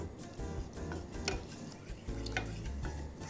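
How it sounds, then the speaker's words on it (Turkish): A spoon stirs chocolate sauce in a pan for an eggless brownie, giving soft repeated scrapes and light clinks against the metal over a low steady hum, close and fairly quiet. "Sosumu devamlı karıştırmayı ihmal etmiyorum."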